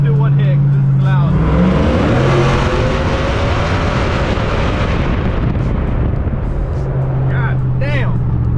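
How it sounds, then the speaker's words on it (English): A family truck with small exhaust mods and its exhaust valves open gives one loud hit of revving, a roaring rise that swells and then falls off, with a voice shouting over the end. "Let's try something out with the valves open in my favorite little spot right here."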